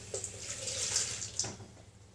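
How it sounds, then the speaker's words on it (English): Tap water running into a cooking pot while making rice pudding, a short quiet splashing pour heard close up. "So I'll put another 100 mils from the tap in."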